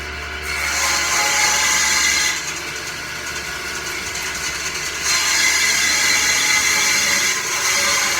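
A power tool cuts through a board of cherry wood being trimmed for steps, giving a steady, loud, harsh grinding whir that surges twice, close up and uninterrupted.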